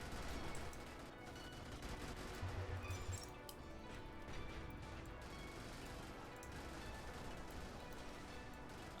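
Dense, continuous gunfire from enemies in the mech combat game Brigador, a steady rattling barrage under a constant mechanical din with no clear gaps.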